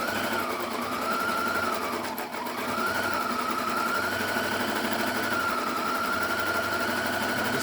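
A sewing machine stitches a zigzag around a fabric quilt square, its motor humming in a steady rapid whir that briefly dips and slows before resuming, close up with no talking.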